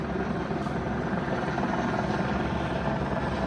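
A police helicopter hovers overhead above a burglary perimeter, its rotor drone a steady, unbroken wash that stays loud and even throughout with no voices.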